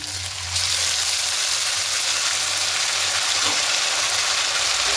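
Ginger, green chili and radhuni spice paste frying for a rohu fish curry, a steady broad sizzle that swells after a brief quieter start and holds evenly throughout.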